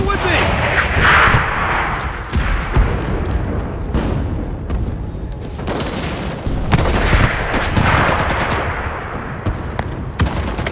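Artillery barrage and gunfire in the World War II shooter game Enlisted during a D-Day invasion battle, with dense booms and blasts rumbling continuously close by while radio voices talk over the din.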